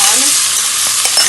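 Chopped vegetables for shepherd's pie softening in a pot give a steady, close hiss of frying and sizzling, continuous and even throughout the short stretch, no talk.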